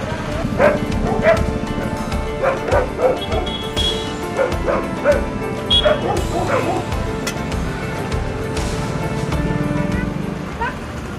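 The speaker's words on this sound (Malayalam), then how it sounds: "ഇപ്പോൾ വൈകുന്നേരമാകുമ്പോൾ ചിത്രയെ കാത്ത് തെരുവ് നായകൾ റോഡിലുണ്ടാകും." Street dogs on a roadside bark and yip repeatedly in an irregular chorus, with occasional whimpers mixed in and steady background noise beneath.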